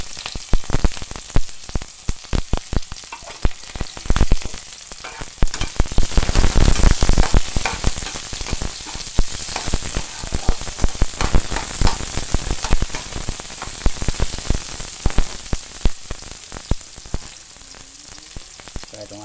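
Garlic and onion hit hot oil in a pan for beef-skin balbacua, sizzling loudly with dense crackling bursts, a surge of spitting midway, then a steadier fry with occasional stirring.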